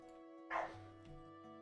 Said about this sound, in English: You'll hear the dogs going crazy.